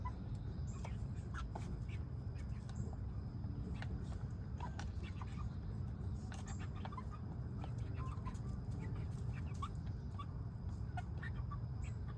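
Chickens clucking steadily over a continuous low hum, with scattered short clucks and calls throughout.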